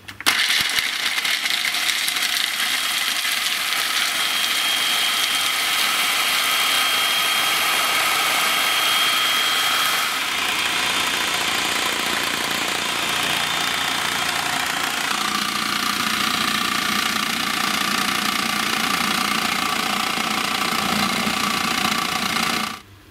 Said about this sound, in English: So then you turn it on, and this makes the nut butter.